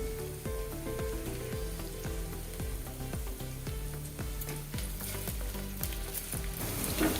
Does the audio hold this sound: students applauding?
no